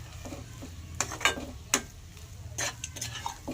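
A fried spice mixture with salt and sugar is stirred in a pan for a vegetable chop filling, with a few sharp utensil scrapes and clinks over a low background hum.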